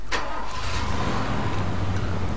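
Car engine starting in the Far Cry 2 video game, a quick crank catching into a steady mid-pitched idle hum that stays loud and close throughout.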